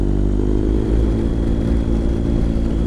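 A motorcycle fitted with a new Remus exhaust roars loudly and continuously, a deep throbbing engine note that stays close and powerful throughout, with no talking.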